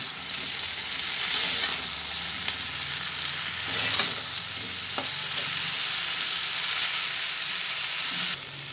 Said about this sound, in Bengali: সবই একসঙ্গে এরপরে ভেজে নেব